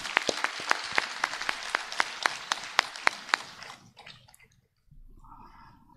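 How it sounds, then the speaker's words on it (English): Sparse applause at a Founder's Day celebration at Father Muller Charitable Institutions, with a dozen or so distinct claps in a steady rhythm over the first few seconds, trailing off into near silence. "With a big round of applause."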